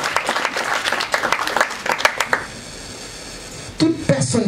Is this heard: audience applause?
yes